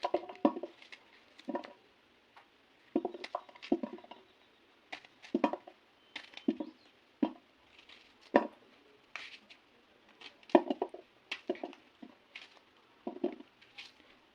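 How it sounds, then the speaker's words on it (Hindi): A knife chops eggplant on a board in irregular bursts of sharp, close taps, with short pauses between runs of cuts in an otherwise quiet room. "अब मैं इनको काटूंगी"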